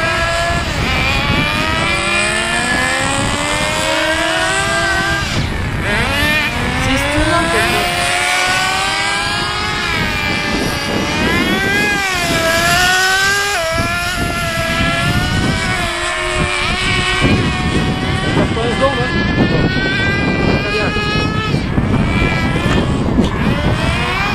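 Two Kyosho FW-06 radio-controlled cars drive continuously, their small motors whining and shifting in pitch as they speed up and slow down, loud and close throughout.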